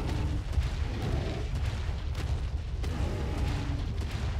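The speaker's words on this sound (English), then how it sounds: "Oh, we got a Magmasaur shooting at us." Magmasaur fire attack in the game Ark on the Fjordur map, a dense, continuous rumbling roar of bursting flame with repeated thumping booms, loud and sustained throughout.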